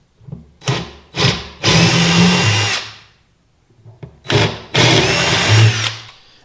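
A power drill enlarges rivet holes in the metal fittings of an old steamer trunk: two short bursts, a longer grinding run, a pause, then another short burst and a long run, all close up.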